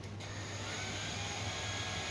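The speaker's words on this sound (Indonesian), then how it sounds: "nah kipas nyala lagi" A Yamaha Vixion motorcycle's small electric radiator cooling fan runs with a steady, whirring hum, constant and close, with no voices.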